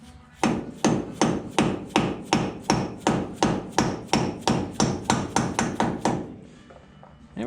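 A hammer taps a Jeep Dana 25/27 axle knuckle part into place with about seventeen sharp metallic blows at an even, steady rhythm, loud and close, before it stops.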